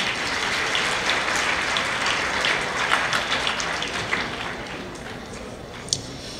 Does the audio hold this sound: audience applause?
yes